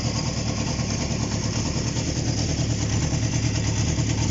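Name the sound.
Honda CB750 motorcycle engine idling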